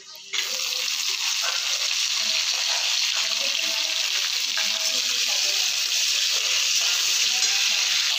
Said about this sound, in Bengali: এবারে গ্যাসের ফ্লেমটা একটু লো করে আগে পেঁয়াজগুলোকে দিয়ে দেব।